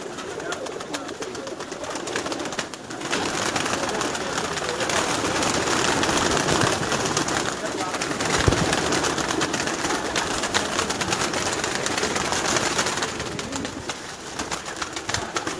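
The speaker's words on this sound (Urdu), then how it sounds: "اب یہ کبوتر تیاری میں ہے" Pigeons coo repeatedly at close range in a loft, with soft murmuring calls layered over constant rustling and background hiss and a faint voice in places.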